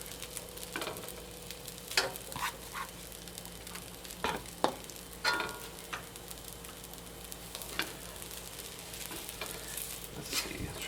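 Blue crab tossed into fried rice in a hot pan, a steady close sizzle with scattered clinks and scrapes of a utensil stirring, no voices.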